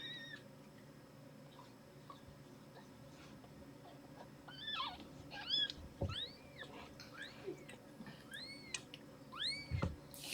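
A vigorously nursing newborn dilute kitten lets out a string of thin, high rising-and-falling mews, sparse at first and then coming in quick clusters, close and fairly soft against a quiet room hum.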